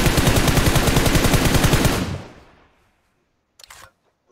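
Rapid automatic gunfire in Fortnite, a dense burst of evenly spaced shots for about two seconds that cuts off and fades, followed by a brief sharp clatter.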